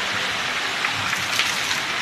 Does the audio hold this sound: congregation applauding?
no